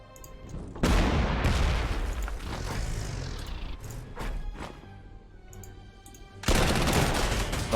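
Artillery fire in the war strategy game Panzer Corps 2, at the gates of Moscow: loud booming blasts with rumbling rolls, a dense barrage in the first seconds, a quieter stretch, then another heavy burst.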